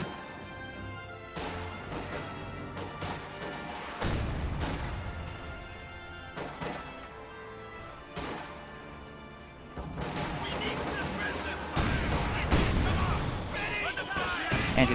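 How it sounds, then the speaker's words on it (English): Autocannon bursts and mortar impacts in the World War II strategy game Company of Heroes, heard as a series of sharp, repeated cracks and booms with a steady battle din between them and a commentator speaking over it. "The Grenadiers take a huge burst from that autocannon and will be forced to retreat pretty much immediately."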